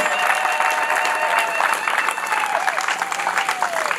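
A crowd applauds at a public ceremony, steady dense clapping throughout, with faint voices and cheers mixed in.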